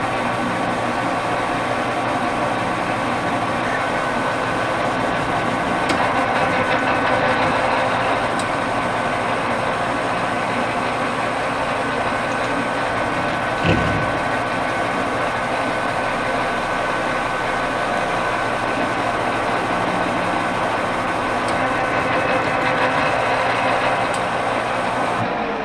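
A metal lathe runs steadily while cutting threads in a home workshop, giving a constant mechanical hum and whir with a brief clunk partway through, and no talking.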